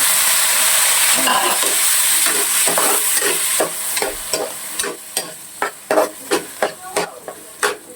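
Ingredients sizzle and fry in a hot pan for Filipino pancit miki with dried fish, a steady crackling hiss broken by regular clinks and scrapes of stirring that grow sharper toward the end; nobody speaks.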